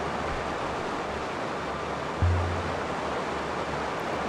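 Steady broadband rush of running water flowing past a stone bridge in the video game Heaven's Vault, a continuous wash with a soft thud partway through, no talking.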